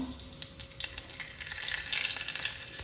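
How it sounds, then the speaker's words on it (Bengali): Cinnamon, cardamom and mace crackling in hot oil give a steady close sizzle with scattered sharp pops and occasional stirring scrapes, alone without talk. "দারচিনি এলাচ ফাটিয়ে দিয়েছি আর জৈত্রী"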